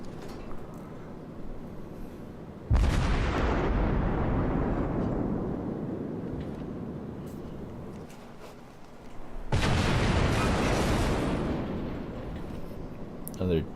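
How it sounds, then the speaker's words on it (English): Naval gun salvos from the Myoko, an IJN heavy cruiser in World of Warships, boom out in two loud, deep blasts, each trailing off in a long rumbling decay. "Another decent volley on the Myōkō"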